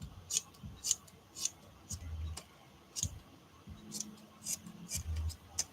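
Scissors trim excess fabric off a handmade sewn art doll, giving a run of sharp, close snipping clicks in quick back-and-forth bursts, with low rustling handling noise between the cuts.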